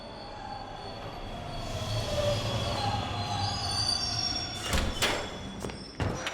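A train pulls in within the Bendy and the Dark Revival video game, its wheels squealing in long high whines as it slows, followed by a few sharp clanks and thuds near the end.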